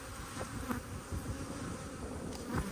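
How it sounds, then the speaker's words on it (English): Dense close buzzing of many honey bees swarming around a decade-old colony being removed, a continuous insect drone with individual bees zipping past the microphone. "there seems to be a hell of a lot of bees around now"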